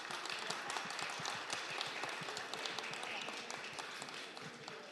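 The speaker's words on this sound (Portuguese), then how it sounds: "Uma salva de palmas para ela." Audience applause at a public hearing in Ermelino Matarazzo, a dense steady wash of many hands clapping that fills the whole stretch at an even level.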